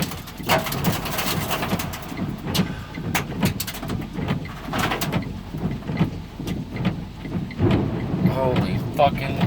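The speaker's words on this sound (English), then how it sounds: "Wind is blowing Holy fucking shit. and it's raining hard." Heavy rain and gusting wind roar steadily through a storm from a small tornado in Dallas, with loud bursts and rumbles, and a person exclaims over the din.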